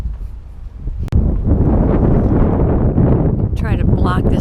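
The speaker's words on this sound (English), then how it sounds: "It's kind of windy" Strong gusty wind buffets the microphone in a loud continuous roar at a lookout above a bay, with a person talking under it.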